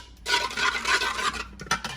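Seasoning, including garlic, being mixed into meat in a bowl for Haitian patties, a close, scraping and rubbing stir that runs continuously for about a second, then a couple of short scrapes.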